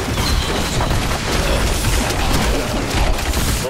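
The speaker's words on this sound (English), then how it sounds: "explosions that do damage too" Loud, dense game explosions from Diablo 3 combat, a continuous barrage of booms and crashing bursts filling the whole stretch with no pauses.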